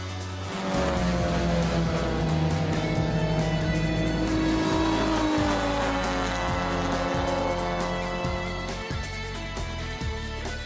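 A race car at speed on the Thunderhill circuit, its engine roaring loudly and continuously with pitch rising and falling through gear changes, near and steady for the whole stretch.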